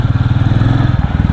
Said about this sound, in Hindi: थंप डेफिनेटली आपको ये मोटरसाइकिल में बेटर लगेगा as compare to the classic.